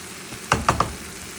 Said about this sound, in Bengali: পেঁয়াজ ক্যাপসিকাম দিয়ে নাড়াচাড়া করে নিচ্ছি